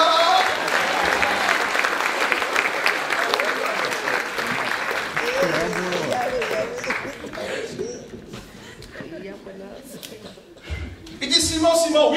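A church congregation bursts into sustained applause, dense clapping filling most of the stretch before thinning out, with cheering voices and a preacher speaking over and after it.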